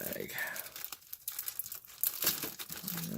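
Plastic bag from a Testors/Italeri Horch Command Car model kit being cut and torn open with scissors, a short burst of close crinkling, rustling and ripping plastic.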